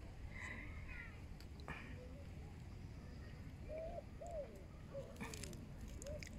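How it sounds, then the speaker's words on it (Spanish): Several soft pigeon coos repeat in a slow, rounded rhythm against a constant low outdoor rumble in Paris, fairly faint and a little distant. "vinieron las palomas"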